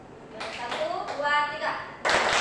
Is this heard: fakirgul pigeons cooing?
no